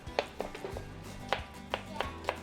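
Knife chopping onions on a cutting board into julienne strips, a series of sharp, separate taps at an irregular pace, close and moderately loud, with no talking.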